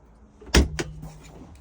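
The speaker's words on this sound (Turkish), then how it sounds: "Kapıyı açmak için bu turuncu ipi çekmeniz gerekiyor." Pulling the orange cord on a 2023 Citroen Ami releases the door with a single firm clack and a brief second knock, heard up close in a quiet interior.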